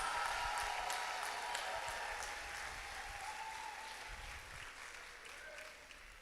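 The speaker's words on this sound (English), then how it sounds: "Please give a round of applause to our honor graduates" Steady, fairly distant applause from an audience for honor graduates at a school awards service, a continuous even patter that slowly softens toward the end.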